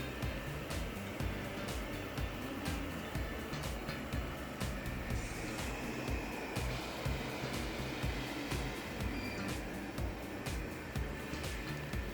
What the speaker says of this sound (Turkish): Bu süt tozunu robot süpürgemize temizleteceğim.